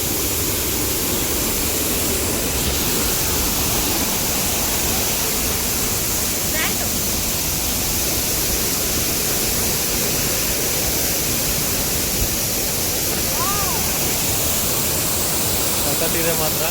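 Soormane waterfall near Kalasa, Chikkamagaluru, running in the monsoon: a steady, loud, broadband roar of rushing water that fills the whole span without a break, with faint voices heard only now and then beneath it.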